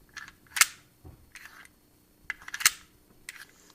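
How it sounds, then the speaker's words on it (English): Magazine snapping in and out of a WE Punisher 1911 gas airsoft pistol: a series of sharp, close metallic clicks and clacks in small bursts separated by brief quiet gaps. "that metallic sound when you put the magazine in"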